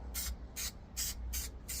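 Five short hissing bursts from a spray can of adhesive onto carpet, evenly spaced in a quick rhythm, close and fairly quiet.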